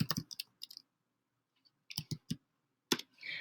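A single word typed on a computer keyboard: a few quiet, quick clicks in short bursts separated by pauses, close and isolated in an otherwise silent room.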